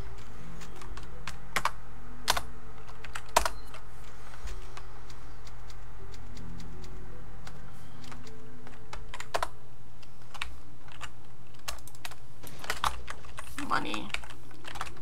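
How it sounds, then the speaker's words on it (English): Rapid clacking keystrokes of a typewriter at a save point in Resident Evil 4, a quiet, steady patter of clicks with sharper strikes scattered through, over a low background hum. "Oh, a typewriter!"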